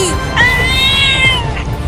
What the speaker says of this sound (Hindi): 2 बिल्लियाँ ट्रेन की लाइन पर है और ट्रेन जा रही है उनके पास।